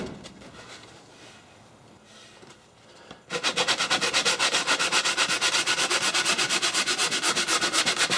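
Wood stock from an old machinist's tool chest being sanded by hand with a foam sanding block, starting as quiet scraping and then turning into loud, fast, steady back-and-forth rubbing strokes, with no talk.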